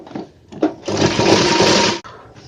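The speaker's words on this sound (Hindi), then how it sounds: "तो चलिए सिलाई लगा लेते हैं।" A sewing machine stitches a men's shirt, running in one steady, loud, close burst of about a second and a half after a few short handling noises, then stopping abruptly.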